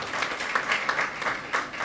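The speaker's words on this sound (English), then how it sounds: "Another round of applause for Secretary." Audience gives a round of applause at a university language centre launch event, a sustained crowd clapping with a bright, crackling texture, moderately distant and steady with slight swells.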